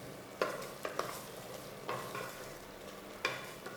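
Curry leaves frying in a pan for bisi bele bath, with a steady soft sizzle broken by a few sharp crackles and stirring scrapes, close and fairly quiet, no talking.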